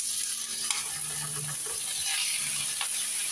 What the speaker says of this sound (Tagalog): Paglalagay po ako ng olive oil, kaunti lang ako. Ayun, tama na yun. Ilalagay ko na ho aring karne.